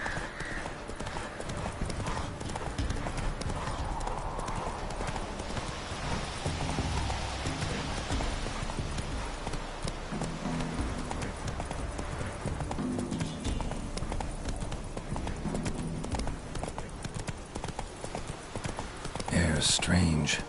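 Roach, a horse in The Witcher 3, gallops with rapid, continuous clip-clopping hooves over rain-like background ambience, with a brief neigh and intermittent talking over the hoofbeats.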